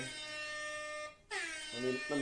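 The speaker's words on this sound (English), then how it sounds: "Let me light us up with some air horns." A loud, sustained air horn blast that cuts off briefly, then returns with bright, stacked horn tones over lower rhythmic beats.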